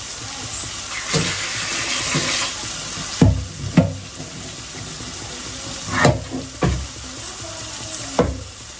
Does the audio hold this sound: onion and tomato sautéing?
yes